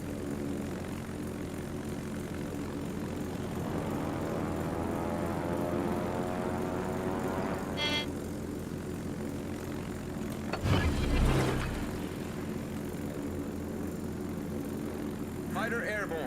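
Fighter aircraft in the World of Warships naval battle game, a steady droning engine hum with a rising whine partway through and a short roaring burst near the middle, heard over game effects.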